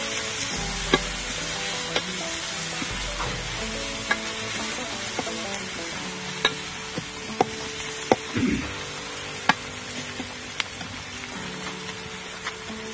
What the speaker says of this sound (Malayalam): നമ്മൾ ഈ എണ്ണയിലേക്ക് തന്നെയാണ് ഇപ്പോൾ സവാള ഇടാൻ പോകുന്നത്